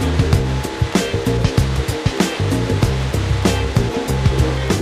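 An automatic car wash at a Statoil station washes a car: loud, continuous rushing water and spray with rhythmic thumping bursts and a humming machine drone, close and with no talk.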